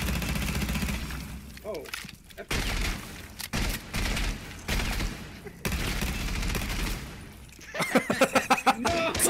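Rainbow Six Siege gunfire crackles in rapid bursts with breaking and shattering impacts, ending in a quick string of sharp shots, while a player briefly exclaims.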